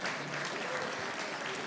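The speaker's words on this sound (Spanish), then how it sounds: "Dele un aplauso fuerte a Él por eso." A church congregation applauding during a Spanish-language sermon, a steady wash of clapping held at a fairly low, even level throughout with no voices standing out.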